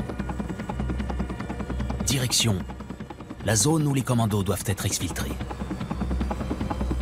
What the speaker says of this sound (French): Sur le tarmac, le Caïman, puis le Tigre, décollent.